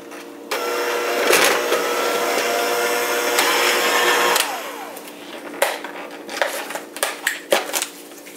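An electric mixer beats almond crescent cookie dough, a loud close whirring that runs steadily for several seconds, then breaks into uneven bursts with knocks and scrapes against the bowl.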